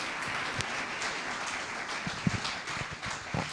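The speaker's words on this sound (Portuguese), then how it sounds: "Podem aplaudir ao Senhor" Applause in a church service, a dense, fairly faint wash of clapping with a few louder individual claps, continuing throughout with no clear speech.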